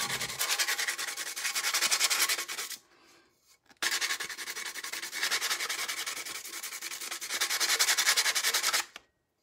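Hand sanding of a painted surface, a loud, close, rhythmic scratchy rubbing in fast strokes that runs for a few seconds, pauses briefly, then continues steadily before stopping.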